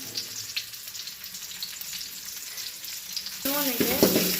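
Onions fry in a pan for fish curry, a soft continuous sizzle with occasional stirring scrapes, ending in a louder burst with a brief tonal sound over the frying.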